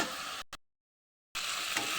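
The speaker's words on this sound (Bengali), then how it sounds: "এগুলো একদম লাল লাল করে ভেজে নেব চিকেনের আলুটা।" Potatoes fry for chicken curry in a pan with a steady hiss of sizzling, cut off by a sudden gap of near silence before the sizzling resumes at the same level.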